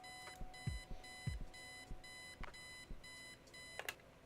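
A bedside alarm clock rings in the Kathy Rain point-and-click adventure game, sounding in regular bursts of bright repeated electronic beeps, with a few low thuds between them.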